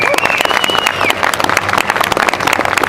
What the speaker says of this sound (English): please, a round of applause for Ivana.